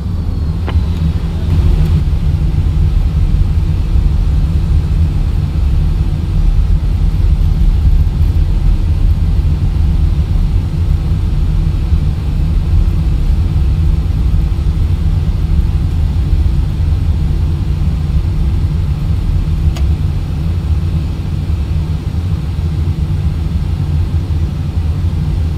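Twin jet engines of an A320 spool up for the takeoff roll in a flight simulator game, a steady loud low roar and rumble holding evenly throughout with no voices.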